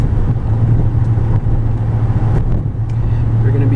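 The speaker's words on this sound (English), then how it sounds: "these are one of the last few V8s you can still get your hands on as far as a muscle truck" A V8 engine in a 2007 Ford F150 Harley Davidson Edition truck drones steadily and fairly loud from start to finish, with a low, even hum and no obvious revving.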